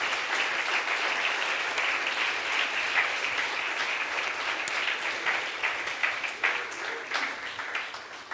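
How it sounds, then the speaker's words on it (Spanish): A church congregation claps steadily and fairly quietly throughout, a dense even patter of many hands in a worship service, with no clear talk above it. "por eso le aplaudo al Señor"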